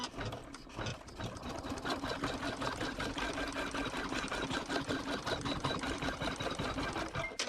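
An embroidery sewing machine sews a basting stitch on a windmill embroidery project with a decorative bobbin. It gives a steady, fast, close mechanical whir and needle chatter that runs evenly throughout without talk.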